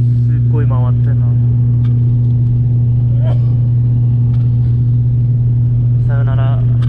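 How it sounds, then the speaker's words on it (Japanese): Airplane engines roar and whine loudly during takeoff from Luang Prabang, Laos, a steady heavy drone heard from inside the cabin, with people talking over it. "いよいよ離陸です。"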